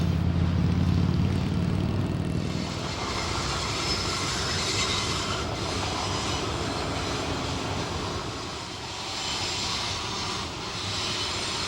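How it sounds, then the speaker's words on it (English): A BNSF freight train hauling shipping containers rolls past in Cajon Pass, a long, steady rumbling roar of wheels and cars with a loud locomotive engine drone at the start, then continuous clatter. "This train is made up of containers from China,"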